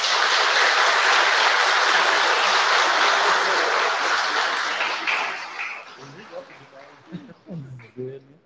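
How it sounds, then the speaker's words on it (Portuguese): Warm congregation applause in a church welcoming a newly baptized child, a dense wash of clapping that fades out after about five seconds, followed by someone speaking. "Vamos acolhê-lo, recebê-lo com uma calorosa salva de palmas."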